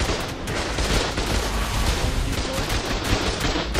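Auto turrets in the video game ARK fire in a dense, loud, unbroken barrage, a rapid stream of gunshots that fills the whole stretch without pause.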